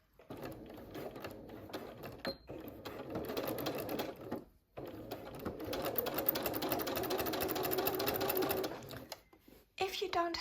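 A sewing machine with a walking foot stitching a half-inch seam on a rag quilt of quilting cottons, a close steady whirring run with brief pauses, while a person talks throughout.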